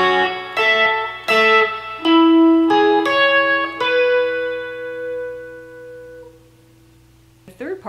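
Electric guitar playing a riff, a quick run of bright, chorused picked notes and chords that ends on a long ringing decay, with a brief sound at the very end.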